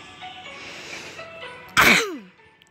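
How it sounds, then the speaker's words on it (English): A single sharp, explosive cough or sneeze bursts out close to the microphone after a stretch of quiet background hum, then trails off. "If I can stop coughing"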